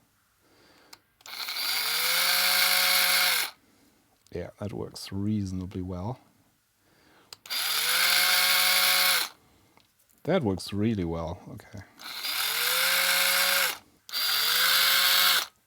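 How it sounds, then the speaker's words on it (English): Three bursts of a high-pitched electric drill with a 3mm bit whirring steadily into stripboard copper traces, each a couple of seconds long, alternating with a person speaking between them. "I'm going to use a 3mm drill bit to try and drill out the"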